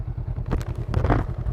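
A 2019 Honda Rebel 500 motorcycle engine idling in neutral nearby with a steady, rapid low thump, plus a few light clicks and rattles over it.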